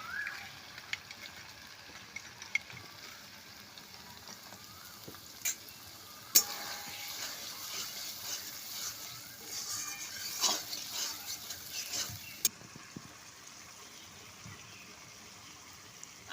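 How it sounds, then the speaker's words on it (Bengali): Cumin, ginger and chilli paste sautéing in a pan for a village-style chicken curry, a steady moderate sizzle with occasional stirring scrapes and clinks, no voices. "আদা জিরে লঙ্কা খুব ভালো করে কষিয়ে নিয়েছি"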